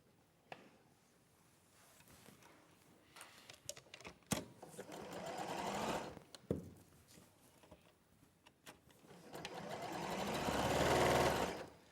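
A sewing machine stitches quilt pieces together for a flower quilt, running in bursts that swell and fade, with a long steady run near the end and scattered clicks and handling noises between.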